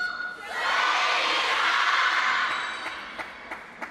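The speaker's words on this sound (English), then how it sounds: "the pattern of the cheer is Sun Yingxia, Jiao, Jiao, Sun Yingxia" A large crowd at a WTT Singapore Smash 2026 table tennis match swells into loud, sustained cheering for the player Sun Yingsha, then fades into scattered shouts and claps.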